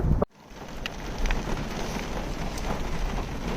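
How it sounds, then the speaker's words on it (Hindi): Steady rain pours on a watermelon plantation in the first December shower, a dense continuous patter after a brief thump at the start, with no voices. "आज तो दिसंबर की ना पहली बारिश जो है ना"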